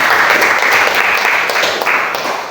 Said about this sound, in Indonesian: Mari memberikan aplaus.